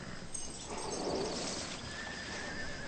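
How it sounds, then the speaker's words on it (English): Horses in the Rocky Mountain wilderness give faint neighs and whinnies against a soft, steady outdoor background, with no one talking. "Horses are acting a little funny today."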